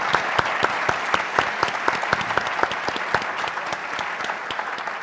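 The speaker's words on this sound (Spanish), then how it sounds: "Un aplauso para el padre Solalinde." An audience welcomes Father Solalinde with applause at a talk on migration, many hands clapping steadily, with sharp individual claps cutting through the dense, even roar.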